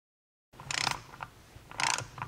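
A torque wrench tightens bolts on a 295cc Robin EH-29C engine from an EZGO TXT golf cart during a rebuild. It gives two short, close bursts of metallic ratcheting clicks separated by a brief pause.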